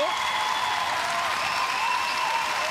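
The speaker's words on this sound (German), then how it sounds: "wenn Helmut Kohl diesen Applaus hören könnte, er würde sich freuen auf seiner Wolke 7." Studio audience applause at a German TV quiz show, a steady dense wash of clapping filling the whole stretch at even loudness.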